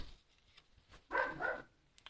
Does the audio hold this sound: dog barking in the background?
yes